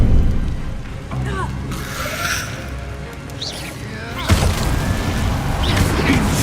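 Incendio fire spell cast in Hogwarts Legacy, a whooshing flame burst over busy game ambience with a thud and rising fiery roar midway, loud and near, with a voice calling out alongside.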